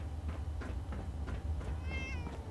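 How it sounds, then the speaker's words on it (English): Cat meowing in the video game Fallout 76, a short wavering meow over a steady game ambience with faint rhythmic thuds, fairly quiet. "A cat."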